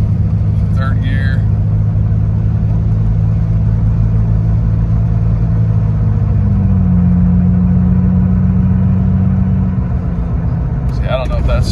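Engine of a 2002 Ford Ranger pickup pulls steadily from inside the cab, a loud continuous rumble climbing through the gears with a shift partway; a voice talks briefly at the start and end.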